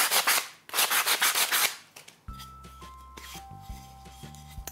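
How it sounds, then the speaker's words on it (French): Rapid rhythmic rasping of sandpaper rubbed back and forth on the edges of a piece of wood, followed by a soft electronic hum and faint tapping. "poncer les bords, pour éviter qu'il y ait des échardes"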